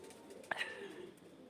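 A single soft pigeon coo sounds briefly against a faint background hum.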